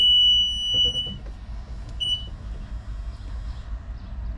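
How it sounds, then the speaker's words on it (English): A high startup warning beep from a Bobcat T66 skid steer loader sounds briefly, then again shortly after, over its loud rumbling diesel engine idling close by. "You get that very loud beep."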